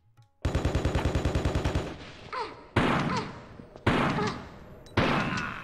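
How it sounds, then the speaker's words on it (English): Gunfire in the game Tomb Raider: The Last Revelation opens with a rapid, evenly spaced automatic burst, followed by three separate heavy single shots at roughly one-second intervals, each trailing off with a decaying echo. "They're still shooting me!"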